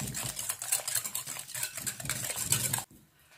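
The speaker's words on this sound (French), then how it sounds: "On va casser nos œufs dans le sucre et on va fouetter jusqu'à ce que le mélange blanchisse." A whisk beats eggs into sugar in a bowl with fast, steady rhythmic scraping and tapping that runs for nearly three seconds close up, then stops abruptly into near silence.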